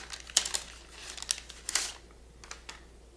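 Plastic guitar string packaging crinkles and tears in several short bursts, close and fairly quiet, with brief pauses between handlings.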